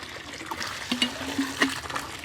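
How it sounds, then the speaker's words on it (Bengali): Water from a newly installed tube well gushing and splashing in spurts, with rhythmic surges as it is pumped out, close by and fairly loud. "পানি উঠতেছে এখন তো বর্ষার সিজন প্রচুর পানি উঠবে"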